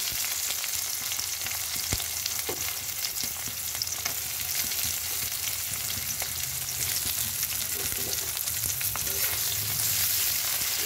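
Onion frying with black cumin in a pan sizzles steadily and loudly, with scattered crackles and occasional scrapes of stirring throughout.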